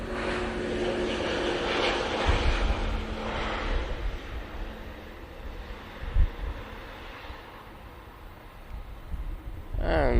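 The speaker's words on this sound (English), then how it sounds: "There's a beautiful Aegean A320neo." An Aegean Airbus A320neo airliner rolls past nearby at an airport, its engines giving a steady broad roar that swells and eases over the stretch, with a few brief bumps and no talk.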